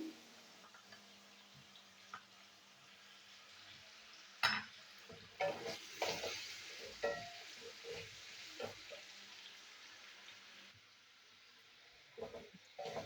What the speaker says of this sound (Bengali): দিয়ে এবার আলুগুলো ভেজে নেবো।